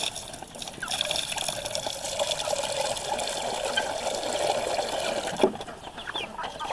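Water trickles and splashes as it is poured for a flock of chickens, with clucking and rooster calls mixed in at moderate, steady level throughout.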